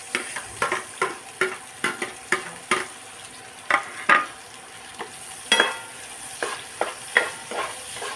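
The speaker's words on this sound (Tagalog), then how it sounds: "Silagay na natin yung bawang. Sunod ang sibuyas." Garlic and onion frying in a pan, a steady sizzle broken by repeated sharp scrapes and stirring strokes at an irregular rhythm, close and fairly loud with no talking.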